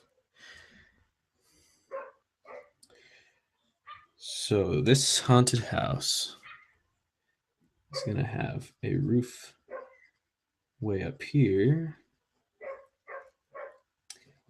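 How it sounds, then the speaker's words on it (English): Dogs bark faintly in the distance, short scattered yips under a person talking close by. "Sorry about my dogs barking."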